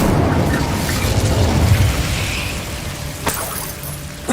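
Incendio fire spell cast in Hogwarts Legacy: a loud, continuous rumbling burst of fiery magic with crackling, shattering edges, then a sharp crack near the end, with no talking.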